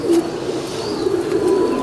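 A Pakistani border pigeon coos in soft, low rolling notes, close and continuous, with a faint chirp and no talk over it.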